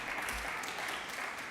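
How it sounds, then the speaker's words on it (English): Brief burst of audience applause at a school lecture event, steady dense clapping that stays fairly quiet and distant throughout. "Give Bruce Lindsay a great round of applause up there."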